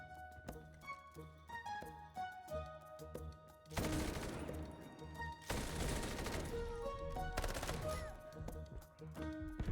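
Gunfire in the video game Delta Force, with loud bursts of rapid automatic fire and volleys near the middle and again later, over a constant layer of game sound and no talking.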